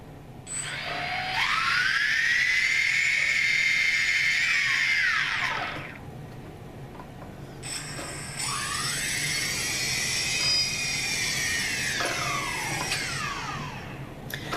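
A 220 kV brushless drone motor for a DJI Phantom 2 Vision Plus spins up twice, each time a whining tone rising sharply, holding steady for a few seconds, then winding down; close and loud.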